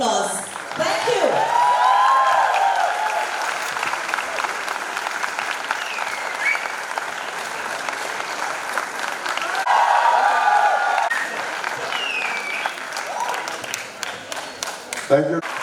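A cinema audience at Regal Cinema in Mumbai applauds at a film premiere during the Kala Ghoda Arts Festival, with dense, sustained clapping that swells and eases over fifteen seconds, joined by a few cheers and voices in the crowd.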